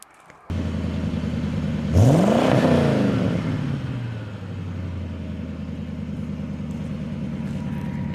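1973 Chevrolet Monte Carlo with a 350 V8 starts up with a brief rising rev, then settles into a steady, low, throaty idle, close and alone.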